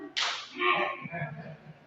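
One sharp hand clap rings out in a classroom clap game, a single crisp crack followed by a short fading room echo.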